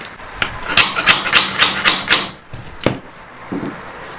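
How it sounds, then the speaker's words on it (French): A hammer strikes a pull bar to tighten a laminate floating floor plank during installation, a quick run of about six sharp taps followed by a few scattered knocks, close and loud. "On la plaque comme ça, et avec le marteau, je fais appui ici pour bien aligner"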